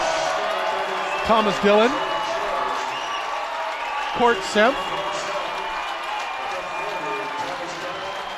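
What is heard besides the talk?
applause for players coming on and off the court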